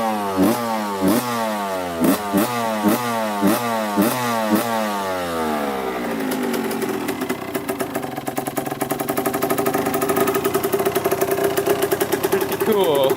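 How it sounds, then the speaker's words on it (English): A tuned Suzuki RM125 two-stroke motocross engine runs close by, first in slow, pulsing blips with rising and falling revs, then settling into a steady, buzzing, crisp higher-pitched run. "Love that two-stroke. Got tuned in, sounds pretty crispy."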